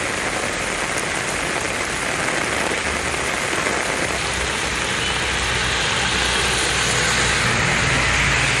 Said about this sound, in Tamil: பெரம்பலூரில் 3வது நாளாக பலத்த காற்றுடன் மழை பெய்தது